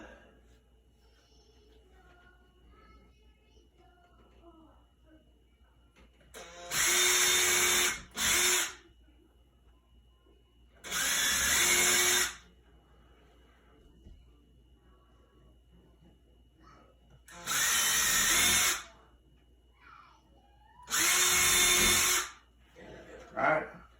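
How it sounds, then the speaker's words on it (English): A power drill bores holes for blind mounting brackets inside a window frame in four short, loud whirring bursts of about a second or two each, separated by quiet pauses with faint handling noise. "now I'm going to drill."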